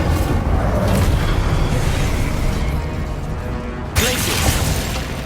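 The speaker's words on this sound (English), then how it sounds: "Incendio!" Incendio, a fire spell, is cast in Hogwarts Legacy on PS5 as a loud, booming blast over steady, dense battle noise, with a sharp, crackling burst near the end.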